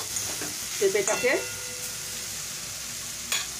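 Grated raw papaya stir-fried in a pan, with soft sizzling and a few scraping stirs near the start and again near the end, close and moderate in level, with a brief spoken word.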